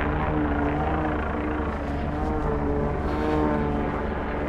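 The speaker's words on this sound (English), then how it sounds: "There's smoke coming out of this plane." Aircraft engine drone from a plane flying overhead trailing smoke at an Austrian outing, a loud steady propeller-like roar with sustained low harmonic tones lasting throughout, no talking.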